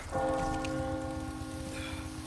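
A church bell tolls in the village of Resident Evil 4 Remake, its steady ringing tone sustained for the whole moment, moderately loud over a low rumbling game ambience with no talking.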